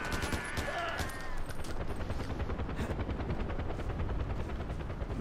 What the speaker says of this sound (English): Oh, I thought the helicopter was going down.